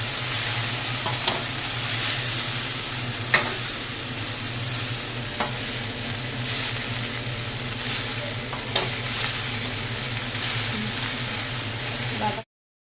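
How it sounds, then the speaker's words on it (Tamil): Spinach (thara pasalai keerai) sautéing in a pan gives a steady close sizzle, with a few sharp scrapes from stirring, and runs continuously before cutting off abruptly near the end. "இதை நல்லா வதக்கிக்கலாம்"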